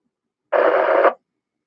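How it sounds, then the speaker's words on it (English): A short, sharp burst of FM radio static as someone breaks squelch on an amateur simplex net, about half a second of loud hiss that cuts off abruptly into silence. "I heard somebody breaking squelch there."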